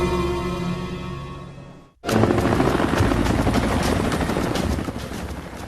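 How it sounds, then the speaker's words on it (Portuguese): A loud, continuous helicopter rotor roar with rhythmic chopping, briefly cutting out then returning stronger and close. "Um helicóptero com uma falha de projeto"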